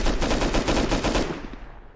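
Rapid, close bursts of automatic gunshots from the game Rust, a dense rattling volley that tails off near the end.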